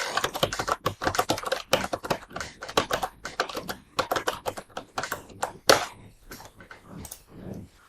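A computer keyboard clatters as a web search is typed, sharp individual key taps in fast uneven runs with brief gaps, loud and close, no speech.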